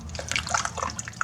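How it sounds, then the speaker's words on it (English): Drumstick stew soup with chicken broth and water being stirred in a pot, a steady wet sloshing and liquid swirl with small splashy drips, close and continuous. "make sure you get that good and stirred"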